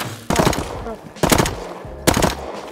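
Gunfire in the survival video game Rust, heard as three separate loud bursts of rapid shots spaced about a second apart, with quieter background sound between them.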